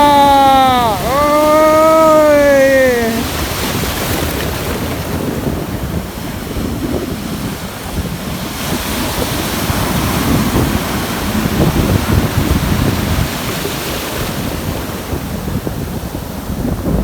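Sea waves and strong wind roar steadily on a boat ride off Bekal beach in Kasaragod, with heavy wind buffeting the microphone. A voice speaks briefly at the start, then the surf and wind carry on alone.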